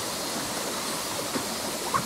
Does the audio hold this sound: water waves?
yes